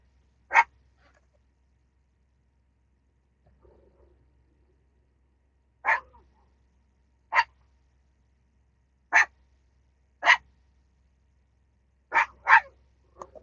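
A small dog barks sharply several times, single yaps spaced a few seconds apart against near silence.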